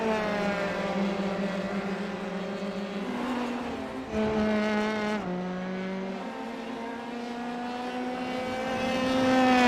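Several race cars roar past in a close three-way fight during a Volkswagen Motorsport India racing event, engines droning loudly with overlapping pitch sweeps as they shift and accelerate, a steady dense racket building louder toward the end.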